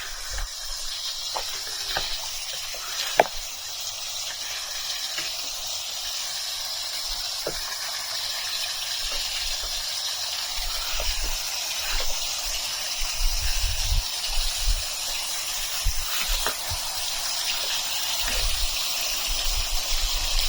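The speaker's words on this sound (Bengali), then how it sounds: "এটাই হচ্ছে সেই লালঘাট ঝর্ণা" Water trickling at Lalghat waterfall near the India border during a dry spell with little flow, a soft steady hiss and gush at some distance with occasional faint knocks and splashes.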